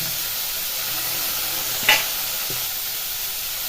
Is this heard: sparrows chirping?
no